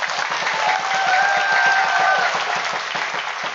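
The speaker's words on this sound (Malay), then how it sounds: "Berikan tepukan tuan-tuan, puan-puan." Audience applause at a Parti Warisan political gathering in Merotai, Sabah, a steady dense clapping that stays loud for several seconds, with a rhythmic low thump beating underneath.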